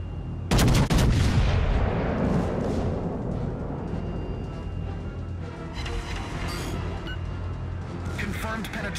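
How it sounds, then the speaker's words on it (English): Naval artillery in the World of Warships: Legends warship game fires with a sudden booming blast and rumbling decay, while a game voice speaks over the continuing battle noise. "All stations, requesting fire on the designated target."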